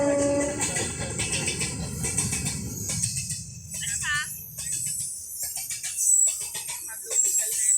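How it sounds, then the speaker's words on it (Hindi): An oil tanker freight train rolls past at Chauri Chaura station, its loud rumbling rush fading after a few seconds into quieter station ambience with birds chirping and a voice speaking over it. "ये तो अपनी वाली ट्रेन नहीं है, ये तो तेल वाली ट्रेन है।"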